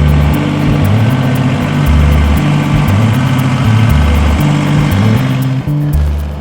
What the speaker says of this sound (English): learning how to drive a tractor here